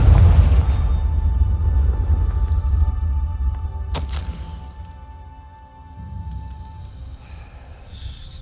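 A Confringo fire spell blast in Hogwarts Legacy: a deep rumbling boom at the start that decays slowly, followed by a sharp crack midway and a lingering low ambient hum.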